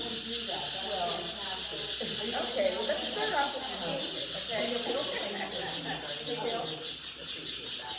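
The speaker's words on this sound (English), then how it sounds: "These birds are so loud." Loud, dense bird chirping and chattering from many birds together, a constant bright twittering chorus with a voice speaking underneath.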